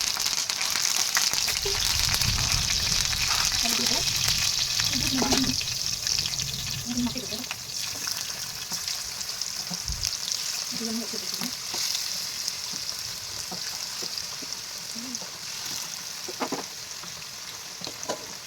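Curry leaves fry in hot oil in a home kitchen, a continuous hissing sizzle throughout. Softer clatter, possible running water and brief faint voices come and go under the frying.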